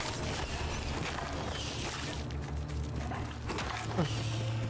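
Dog barking in the video game Fallout: London, a few yips and barks under a dense, busy game soundscape with low droning and mechanical clatter, with a voice talking over it.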